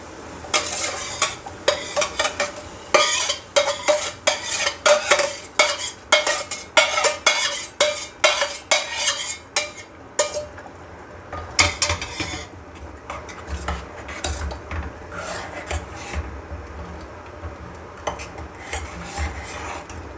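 Fenugreek seeds sizzle in a pan over full flame while a utensil scrapes and clatters against the metal in quick bursts, then the stirring settles into a softer, steady frying hiss.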